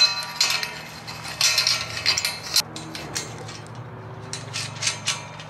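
Metal horse stall fence panels being clamped together with panel clamps, giving a run of sharp metallic clinks and rattles over a steady low hum, near and moderately loud.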